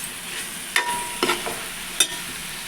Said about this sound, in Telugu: వంకాయలు వేసుకోండి.